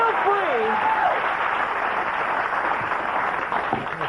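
Studio audience on a 1998 late-night talk show applauding, a steady wash of clapping throughout with a voice briefly heard over it at the start.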